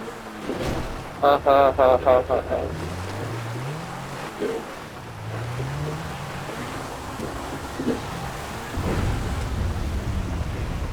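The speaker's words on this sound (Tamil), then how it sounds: "மழையோட எஃபெக்டே நல்லா இருக்கு. மழை இடி" Video game rain hisses steadily while low rolling rumbles of thunder swell and fade, broken by a short burst of rapid mechanical beeping near the start.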